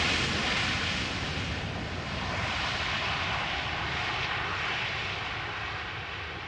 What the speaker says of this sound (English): .737 from Split on final